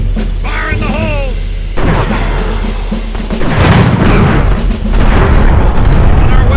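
A set charge goes off in Empire Earth 2, first with a few bright game cues. Then a loud, deep explosion booms and rumbles, followed by a second heavy blast, under faint unit chatter.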